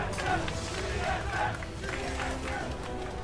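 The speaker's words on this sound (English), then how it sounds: "You can hear the crowd." Esports arena crowd at a League of Legends match, TSM versus CLG, roaring and chanting TSM after the first game ends, a dense steady wash of voices with rhythmic chant swells throughout.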